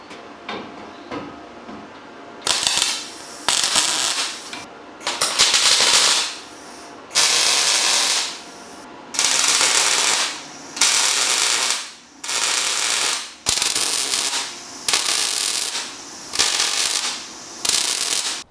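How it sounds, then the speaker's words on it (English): Steel bars cut for a trailer repair, heard as a loud, close run of repeated harsh grinding or cutting bursts. Each burst lasts about a second, with short pauses between them. "So I'm going to quickly cut those 2 bits of steel and weld them in and see how we're looking."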